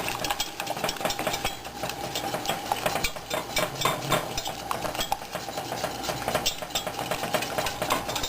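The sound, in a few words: wire whisk stirring hot chocolate fudge sauce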